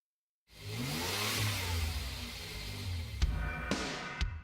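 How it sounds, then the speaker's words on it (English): Lexus RC F coupe with a V8 engine accelerating on the road, a continuous rising engine drone heard from inside or nearby at moderate level, with a couple of brief clicks and knocks late in the pass. "what's under the hood is a good old-fashioned V8 power plant"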